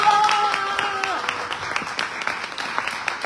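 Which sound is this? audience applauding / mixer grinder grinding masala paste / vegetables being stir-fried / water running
audience applauding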